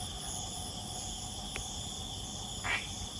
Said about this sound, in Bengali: কারণ এখানে ঝিঝি পোকার ডাক শোনা যাচ্ছে